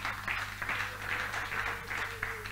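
A church congregation claps in bursts, with soft, rhythmic patches of hand clapping that sound distant and faint over a low steady hum.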